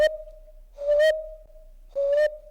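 A person whistling an imitation of a brown hawk owl call: a steady pure low note followed by two rising, breathy hooting phrases, close and clear with nothing else heard.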